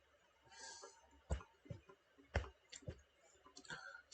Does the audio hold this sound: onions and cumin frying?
no